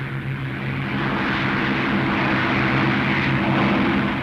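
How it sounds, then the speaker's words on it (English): A WW2 RAF fighter aircraft of 64 Squadron taking off at full throttle, its engine giving a loud, steady, continuous roar with a low droning hum throughout. "Now the take-off. Throttle right forward. Stick central. Ease her off the ground."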